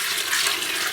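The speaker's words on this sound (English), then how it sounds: "I'm now going to take this 12 cups of chicken broth and pour this right in." Twelve cups of chicken broth poured into a soup pot for Italian wedding soup, a steady continuous liquid splash and gush filling the whole second, close and without talk.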